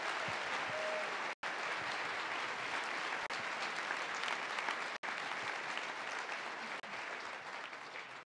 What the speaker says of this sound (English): I wish you would give them all a big applause.